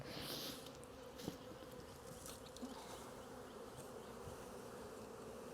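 A swarm of honey bees, the first of 2022, makes a continuous dense buzzing drone, steady and fairly close, with occasional faint bumps and no speech.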